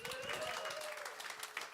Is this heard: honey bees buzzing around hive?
no